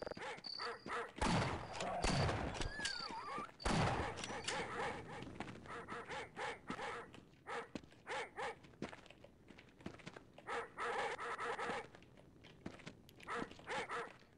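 Dogs barking and yelping in the video game They Hunger, with repeated bow-wow barks and whimpers among game noise and gunfire-like thuds, fairly quiet overall.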